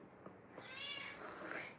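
A pet cat meows indoors in the morning, two soft short chirps followed by a longer drawn-out meow and another rising call, close and fairly quiet with no talking.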